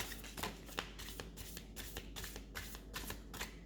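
A deck of tarot cards is shuffled by hand up close, giving a quiet, steady series of soft riffling flutters and taps, about three per second, with no talk.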